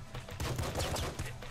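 Pop gun firing in the video game Nuclear Throne, a dense, rapid burst of sharp shots lasting about a second and a half.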